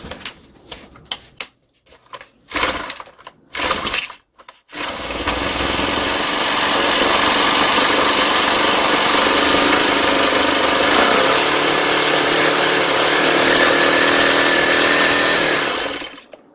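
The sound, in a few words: gasoline grass trimmer engine starting and idling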